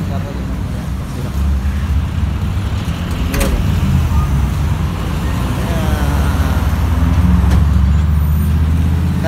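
Steady road traffic with cars and trucks rumbling past on a city street, a continuous low roar with a couple of brief sharp bursts, heard close and loud while voices talk over it.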